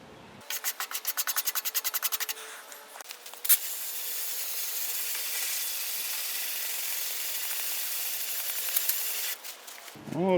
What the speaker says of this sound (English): Then I'm going to take a hose from the inside out